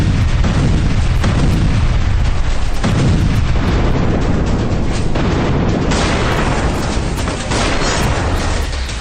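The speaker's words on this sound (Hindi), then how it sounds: "कुर्स्क में रूसी सेना फैब 300 बमों से विध्वंसक हमले कर रही है।" FAB-300 bombs striking positions in Kursk, a dense, loud, continuous series of deep booms and rumbling blasts overlapping one another with no pause.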